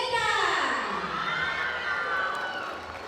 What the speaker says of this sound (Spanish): Que se escuchen fuerte los aplausos, por favor, para nuestra pareja número 30